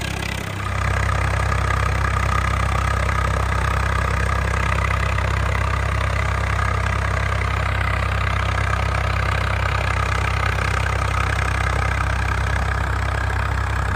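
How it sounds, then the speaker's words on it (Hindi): A 855 Turbo tractor engine runs at a steady idle, loud and close with a constant low rumble and no change in pitch throughout. "आवाज देखो भाई ट्रैक्टर की"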